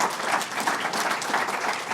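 A small audience claps at a talk about foster care, giving a dense, steady wash of applause that holds at even loudness for the full stretch.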